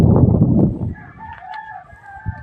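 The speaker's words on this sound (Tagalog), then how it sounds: "maririnig mo na yung mga tilakok ng mga hayop" A rooster crows with a drawn-out, wavering call after a burst of louder low rumbling; the crow sounds moderately distant and carries over quiet background.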